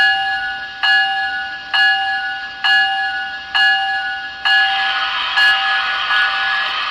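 A model locomotive's bright, ringing bell strikes steadily, about once every second, each clang ringing out before the next, with no voices.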